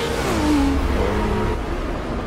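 Race car engine in Forza Motorsport 6 at the Nurburgring, revving hard and accelerating through a corner behind a Bugatti EB110, with a steady whining tone that climbs in pitch and stays loud and close throughout.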